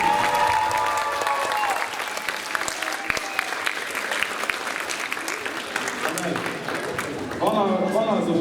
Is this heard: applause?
yes